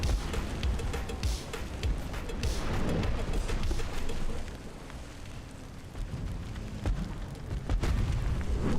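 Torpedo hits explode in the naval video game Ultimate Admiral: Dreadnoughts, set in a British–German war of 1890, giving a rumbling, sustained blast with crackling bursts over steady low background noise.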